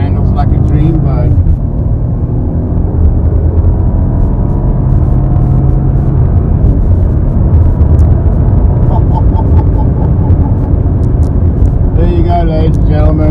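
Audi SQ7 V8 driven hard into a corner, its engine droning loudly and steadily throughout, with someone talking over it.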